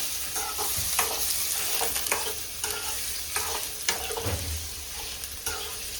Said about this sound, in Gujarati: આ તળીને લીધું